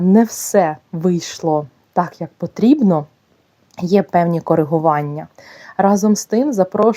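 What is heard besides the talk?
No distinct noise like a dog, phone or traffic.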